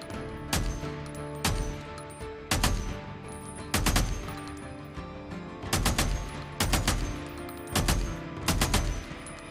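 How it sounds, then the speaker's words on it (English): Gunfire in the zombie survival game Days Gone, with about eight sharp, loud single shots spaced unevenly over the stretch, each ringing out briefly against a steady game background, with no talking. "Just shooting in the blind right now"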